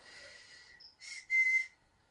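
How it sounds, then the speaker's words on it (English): A person whistles short, thin tones to communicate while in pain, a few brief high notes with gaps between, fairly faint and close, with no talking. "I communicate by whistling when pain is bad."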